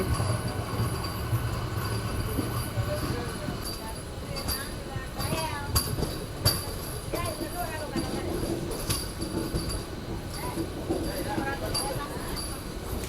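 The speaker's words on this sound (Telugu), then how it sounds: "ఫైనల్గా మన ట్రైన్ వచ్చేసి తిరుపతి నుంచి అయితే బయలుదేరిపోయింది" A MEMU passenger train departs Tirupati, a continuous rumble of rolling carriages heard from inside, with wheel squeal and rattles rising through it and voices in the background.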